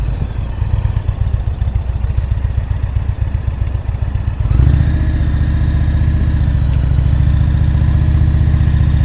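A motorcycle engine idles and lugs at very slow speed, rough and pulsing close by, loping as it nearly stalls, then steadying into a fuller, louder drone under clutch and rear-brake control during slow-speed riding practice.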